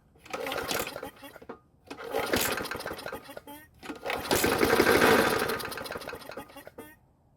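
A worn Poulan Pro lawn mower engine runs with its spark plug boot left disconnected, buzzing and sputtering loudly in several uneven bursts separated by brief pauses.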